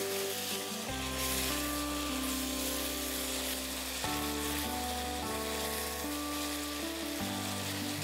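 Spice paste with dried red chilli, chilli powder and green chilli sizzling and frying in a pan for a restaurant-style Bengali dal, a steady close crackle with occasional stirring scrapes, no talking.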